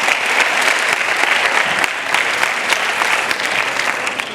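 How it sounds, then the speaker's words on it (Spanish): A conference audience gives loud, sustained applause to welcome a guest speaker on sport and sustainability. The dense clapping holds steady throughout and fades slightly at the end. "Así que un fuertísimo aplauso para él."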